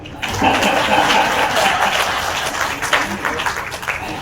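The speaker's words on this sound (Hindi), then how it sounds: "कविता खत्म हो गई, ताली बजा।" An audience claps for a poem at a Hindi poetry gathering in Indore, with steady, dense clapping filling the whole stretch at close range.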